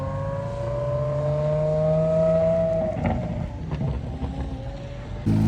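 Mercedes CLK GTR supercar at Monterey Car Week, with a steady engine drone rising in pitch as it revs and drives past, heard at a moderate distance among crowd and street noise.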